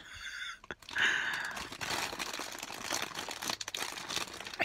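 Plastic crinkles and rustles close up as LEGO DOTS kit bags are pulled open, with a sharp crackle near the start and continuous handling noise after.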